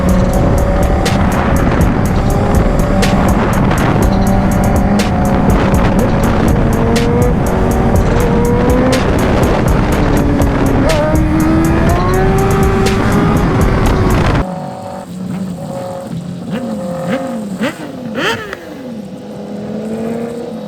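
A rebuilt BMW S1000RR motorcycle ridden hard, a loud high-revving engine climbing and shifting through gears close by, then dropping to a quieter, lower drone with rising pitch sweeps.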